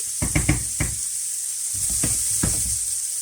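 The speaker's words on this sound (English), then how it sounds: "Give that a little stir. What you're looking for is everything to start browning a little bit" Tortilla ingredients browning in a frying pan are stirred, a few close, distinct scraping strokes over a light sizzle, then quieter shuffling.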